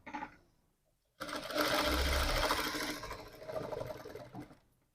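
A sewing machine stitches in one continuous close, loud burst of rapid needle clatter lasting a few seconds, preceded by a faint click and ending with a short slowdown, with no speech over it.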